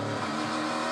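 A V8 touring race car at Winton roars loudly at high revs during a brief, dense burst of engine noise while braking hard with the rear wheels locking.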